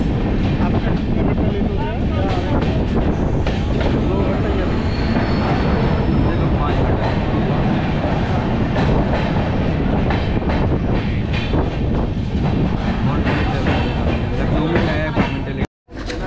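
The 13152 Jammu Tawi Kolkata Express rolls on after leaving a junction in Bihar, a loud, continuous rumble and rattle of wheels on track heard from inside the carriage, with a brief dropout near the end.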